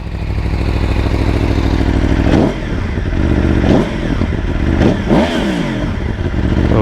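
A loud Aprilia Tuono V4 1100 street model with an SC Project exhaust, engine running steadily with several sharp revs and throttle blips that swell and fall back, close up and alone.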